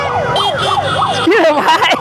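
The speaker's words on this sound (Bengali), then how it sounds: "ওই পুলিশের গাড়ি যায়, পুলিশের গাড়ি।" A police car siren wails in a rising and falling pattern as it passes through a street rally of football supporters celebrating the World Cup, with crowd noise underneath and a second, sharper siren sweep toward the end.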